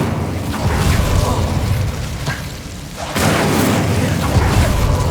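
Incendio fire spell cast in the game Hogwarts Legacy, a loud, dense roaring burst of flame that sustains, dips briefly, then surges again with a fresh whoosh.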